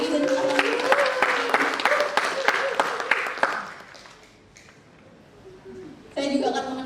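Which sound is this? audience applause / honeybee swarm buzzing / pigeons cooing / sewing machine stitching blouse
audience applause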